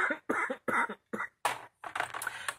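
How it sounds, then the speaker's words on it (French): A woman with a cold coughs in a dry, hoarse series of about seven close bursts, spaced by brief pauses and growing rougher toward the end. "ma toux, elle démarre toute seule, elle n'a pas besoin de bouton"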